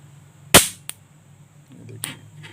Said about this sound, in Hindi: तो चलिए इसको जो है डिस्चार्ज करते हैं।